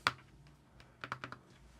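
Keystrokes on a Keychron K2 HE keyboard: one sharp click, a pause, then a quick cluster of four or five taps, close and quiet.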